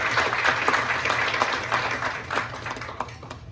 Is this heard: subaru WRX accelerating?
no